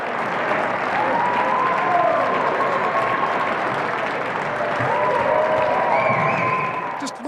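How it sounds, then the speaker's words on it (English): A crowd applauds steadily and cheers at a men's over-90 footrace as the last two runners finish their final lap, a dense, sustained roar of clapping that stays loud throughout, with a few higher whistles or shouts rising over it. "By their last lap, they have the crowd on their feet."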